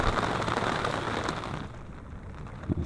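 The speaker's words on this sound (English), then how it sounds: "It's about to stop raining" Rain falling near a Cornish river, a dense steady hiss that fades and thins toward the end, with a couple of closer knocks at the finish, no voices.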